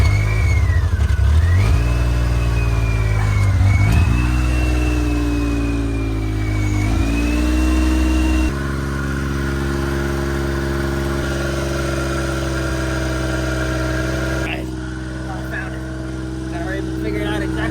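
A Suzuki Carry 4x4 mini truck engine runs steadily at idle with a couple of throttle blips early on, loud and close, while someone talks over it throughout.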